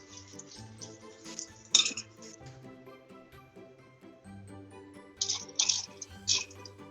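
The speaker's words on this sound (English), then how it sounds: "So I put a little bit for the sauteing." Broccoli leaves sautéed in a pan give off a soft clatter of utensil against pan, with two sharp clinks and scraping bursts rising briefly above the low, steady background.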